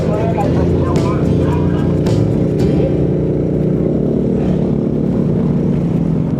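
A large tractor rumbles past on a road, a loud low engine drone with clattering that holds steady throughout while people talk close by.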